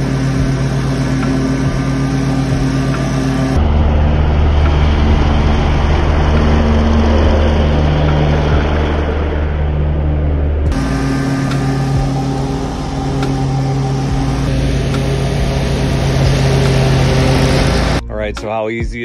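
A riding lawn mower fitted with a weed eater carrying rack runs close by with a loud, steady engine drone that continues for the whole stretch.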